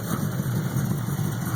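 A Ford Ranger fitted with a 347 V8 idles steadily after a cold start, a loud, close, continuous low rumble that holds even throughout with no voices.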